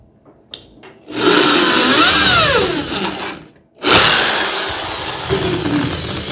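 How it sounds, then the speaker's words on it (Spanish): A handheld power drill bores through the centre of homemade TV antenna dipole plates, whining loudly in two long close runs separated by a brief pause. "Ahora vamos a perforar los dípolos en el centro igual."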